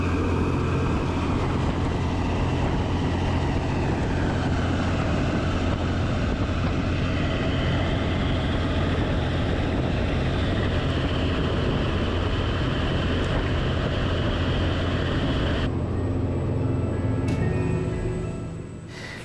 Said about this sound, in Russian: Метеор набирал скорость и под гул дизельного двигателя встал на крыло